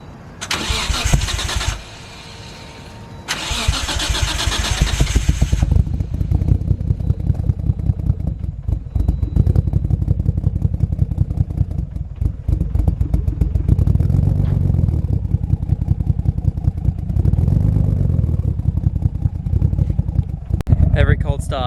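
A Nissan Skyline R33 fitted with big cams starts from cold and idles roughly, the engine note loud and close, lumpy and uneven, with bursts of revving and a voice talking over parts of it.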